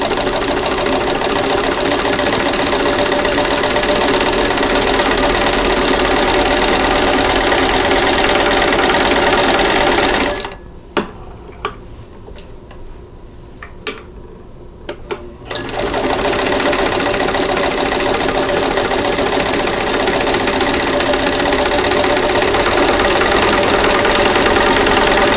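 A sewing machine stitches a quilt block a quarter inch from a drawn line, a loud, close, steady mechanical whir that runs continuously, pauses for about five seconds, then resumes at the same pace.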